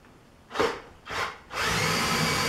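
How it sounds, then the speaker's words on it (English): An electric drill whirs in two short bursts, then runs continuously, drilling a light pilot hole into a bench pin at close range. "I'm just going to drill a real light pilot hole just to get it started"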